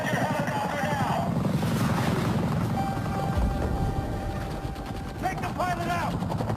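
A helicopter in a police chase scene in a video game, its rotor drone steady and loud beneath overlapping shouted voices and bursts of gunfire-like effects.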